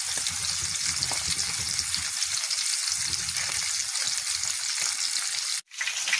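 Lamb chops fry in a pan with a steady, loud broadband sizzle and crackle throughout, with soft low clatter underneath and a brief dip near the end; no one speaks.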